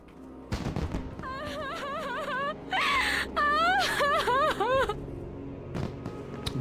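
A voice in World of Warcraft wails and moans in a few rising and falling sobs at close range, with brief sharp pops around them.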